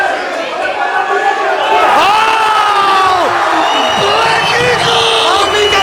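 A crowd at a GAMA Grappling match in Georgia, including a Rustavi team's supporters, cheers and whoops in a loud, continuous roar. Rising shouts swell over the noise, and a commentator's voice is heard through it.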